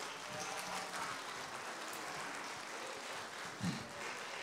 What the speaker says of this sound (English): Do give him a round of applause.